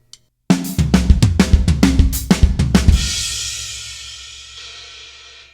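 A fast linear drum fill races across toms, snare, kick and hi-hat in a quick run of single strokes, then lands on a crash cymbal that rings out and slowly fades.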